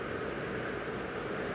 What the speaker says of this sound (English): Sorry for the noise, we're right next to the air conditioning intake.